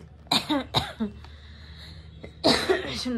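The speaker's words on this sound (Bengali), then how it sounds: "আমারও কাশি হয়ে গেছে দেখো" Several sharp, close coughs: two quick bursts near the start, a faint one mid-way, then a harsher fit at the end, in a quiet room.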